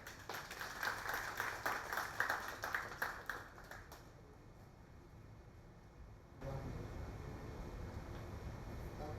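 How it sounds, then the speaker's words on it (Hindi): Audience applause at the Jharkhand Mahotsav, a dense burst of many hands clapping for several seconds that fades out, followed by a hushed hall and then a louder murmuring crowd. "एक बार ताली बजा दें।"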